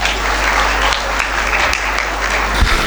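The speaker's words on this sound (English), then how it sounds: "Even in the sound of clapping we can hear." Audience at a school English debate during an inter-school literary meet claps steadily throughout, a dense, sustained round of applause with a low hum underneath and no voices.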